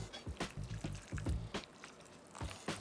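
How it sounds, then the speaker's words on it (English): Milk is poured over torn buns in a bowl in a kitchen, producing faint, close liquid glugs and soft splashes in short pulses. "We're gonna add some milk."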